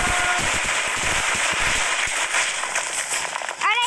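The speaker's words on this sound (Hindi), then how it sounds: "और ये धमाका भी करता है," Explosion blasts in the Ben 10 Ultimate Alien video game come as a dense, crackling burst of rapid pops and booms, with a bright sweeping tone at the end.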